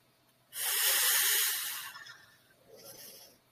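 A long, forceful exhale hisses into a balloon during a laughter yoga session with teachers and children at a graduation party, followed by a second, softer blowing breath, close and without speech.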